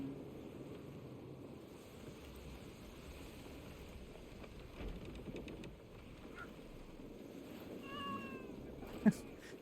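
A cat meows a few times in Assassin's Creed Black Flag at a harbour dock, faint thin cries late on over a low murmuring game ambience, closed by a brief sharp knock.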